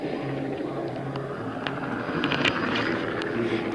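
An agricultural crop-spraying helicopter flies and turns over farmland, a steady, fairly distant rotor and engine drone running continuously without pause.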